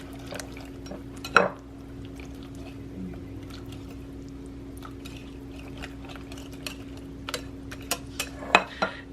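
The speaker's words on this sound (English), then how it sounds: "Mix that all together lightly." Quiche filling ingredients are mixed lightly in a bowl, with soft stirring and a few sharp clinks of a utensil against the bowl over a steady low hum.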